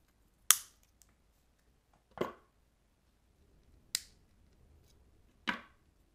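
Four sharp, isolated snips as wire cutters trim the short end of wire wrapped around a pin while making stinger hooks for a big silicone lure, spaced about every one and a half seconds with quiet between.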